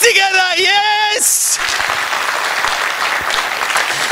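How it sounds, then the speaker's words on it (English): Crowd applause at a cultural festival, loud dense clapping from a large audience that swells in after a brief held tone and continues steadily to the end. "Now, we need an applause that's good enough for this crowd. Come on, hands together, yes!"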